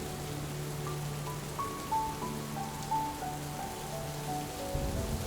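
Steady rain falls in an outdoor street scene of an animated Hindi moral story, a continuous soft patter with faint background tones and a low rumble toward the end.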